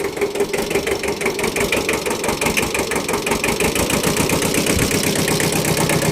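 A small imported Japanese farm tractor's diesel engine idles steadily and smoothly with a rapid, even knocking rhythm, close by and fairly loud, with no talking.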